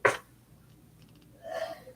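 A single sharp sneeze bursts out at the start, followed by a softer breathy exhale a moment later, fairly close in an otherwise quiet room.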